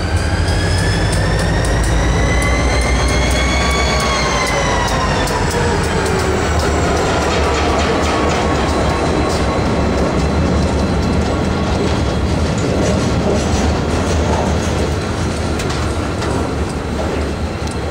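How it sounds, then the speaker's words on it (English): A train rolls into a station loudly with a rising-then-falling metallic squeal of brakes and steady rumbling wheels, continuous and close, with no talking. "Train approaching. Please remain behind yellow line."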